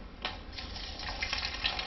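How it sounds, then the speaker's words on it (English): Water drains steadily from the opened bottom of a homemade bottle filter into a sink, a continuous close splashing trickle with no talk. "we're going to open up the bottom and it's going to start releasing water"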